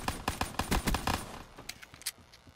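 Rapid gunfire in Black Ops 3, a fast burst of about eight sharp shots in the first second and a half, followed by a few scattered quieter shots and clicks.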